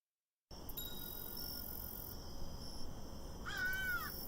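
A crow caws once near the end in the Escape the Crate game Night of the Vampire, a short harsh call heard fairly distant over a steady hiss and faint high tones.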